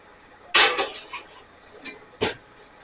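A metal loaf pan of cinnamon raisin bread dough is set into an oven, giving a sharp metallic clank followed by lighter rattles and a second clunk, close and brief with no speech.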